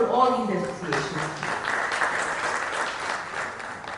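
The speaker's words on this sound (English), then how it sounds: "Let's have a round of applause for all these associations." An audience at an inaugural function claps in sustained, dense applause, with a voice speaking over the start.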